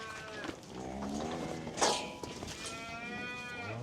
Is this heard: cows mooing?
yes